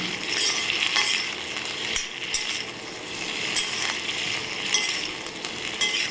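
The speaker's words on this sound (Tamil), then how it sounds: "நல்லெண்ணெய் நல்லா வதக்கிக்கோங்க" Turkey berries sautéed in sesame oil in a home kitchen pan give off a steady, fairly soft sizzle with continuous stirring throughout.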